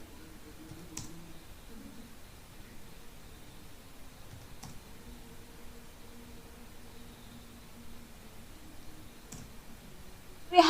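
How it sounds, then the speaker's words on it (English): Three sparse, faint computer mouse clicks spaced several seconds apart while drawing a floral pattern in a drawing program, over a quiet background hiss. "Okay, now I am clicking here, not 5, 2."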